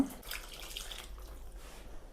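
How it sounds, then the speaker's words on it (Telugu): Water poured into a pot of drumstick sambar with cooked dal, a short soft splashing pour that fades quickly, with a brief knock at the end and no talk. "ఇందులో కొంచెం వాటర్ కూడా పోసుకొని అయితే"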